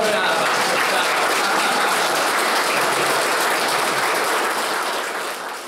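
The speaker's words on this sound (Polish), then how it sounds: "proszę o brawa" A crowd claps at the opening of an exhibition on the Pacific war of 1941-1945, with the US ambassador among the guests: thick, continuous applause from many people, loud and even before tapering off at the end.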